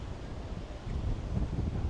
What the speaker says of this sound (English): I'm getting a little bit scared because it's windy out here